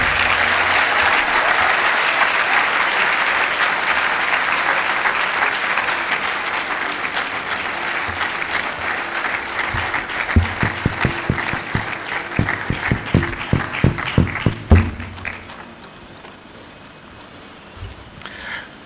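Sustained audience applause fills a graduation congregation ceremony, a dense steady wash of clapping that thins into scattered, louder individual claps near the end before fading out.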